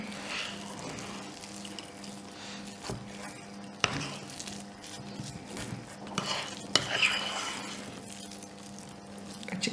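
A spoon stirring a chocolate mixture with crushed hazelnuts in a bowl, giving soft repeated scraping and a few sharp clinks, with a low background hum and faint kitchen noise.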